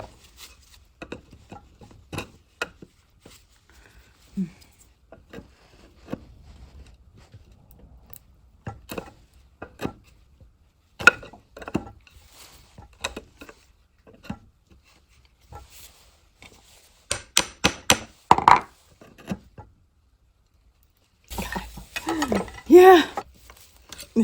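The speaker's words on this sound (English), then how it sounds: "I'm going to try it with a different hammer." Hammer blows working a nail out of a wooden chair during furniture repair, a scattered series of sharp knocks and taps, some sparse and isolated, others in quick clustered bursts toward the end.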